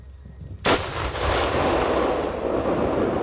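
A self-propelled howitzer at a coastal firing range near Klaipėda fires a shell at targets in the Baltic Sea. One sharp, very loud blast is followed by a long, rolling rumble that stays strong to the end.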